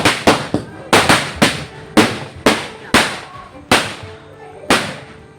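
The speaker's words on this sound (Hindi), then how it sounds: "इसे हमने दिवाली में बचा करके रखा था छठ पूजा में फोड़ने के लिए" Firecrackers saved from Diwali are set off for Chhath puja, about a dozen sharp, loud bangs in an uneven burst, each with a short echoing tail.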